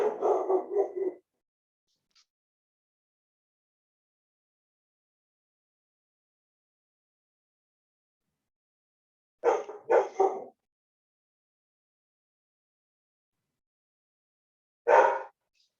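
A pet dog barking indoors, a short volley of barks, then a pair of barks after a long silence and a single final bark, each loud and near.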